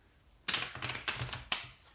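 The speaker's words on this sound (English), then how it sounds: "Just got to shuffle these quickly" Oracle cards riffled and tapped together in a few quick bursts, a soft papery shuffling close by with short pauses between.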